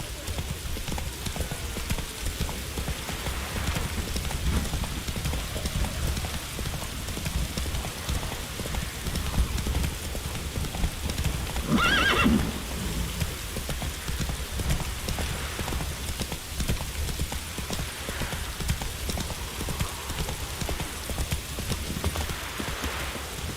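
Hoofbeats of Roach, the horse in The Witcher 3 video game, clip-clopping steadily throughout under a constant rain-like hiss, with a brief louder burst midway and a voice speaking faintly.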